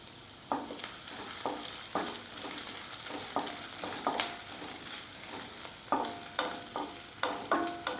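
Chopped ginger fries in a pan for a prawn chilli, a steady sizzle punctuated by repeated sharp spatula scrapes and taps as it is stirred.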